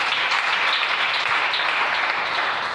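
A church congregation applauding to acclaim Jesus, steady loud clapping from many hands filling the space without a break.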